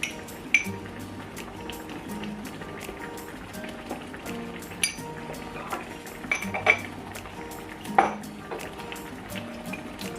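Small metal measuring spoons clink sharply a few times against spice containers as garam masala and paprika are measured for a Bolognese sauce, over soft kitchen background noise.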